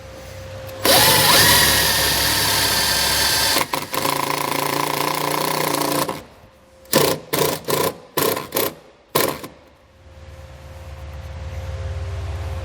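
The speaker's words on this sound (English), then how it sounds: "To secure it, I'm just going to use the provided self-tapping screw." Power drill spinning a self-tapping screw into the thick metal of a 2019 Subaru, first a long continuous whir, then a series of short stuttering bursts as the screw seats, loud and close with no talk.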